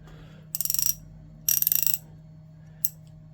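A first-generation New Britain Mustang ratchet clicks in two quick rapid-fire bursts of sharp metallic clicks, then gives a single click, close and clear over a low background hum.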